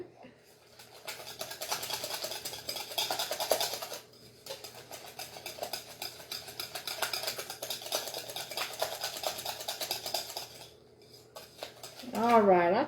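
Cream cheese filling is spread by hand over a cherry cheese coffee cake crust, with a utensil scraping and tapping against the pan in repeated strokes while someone talks over most of it.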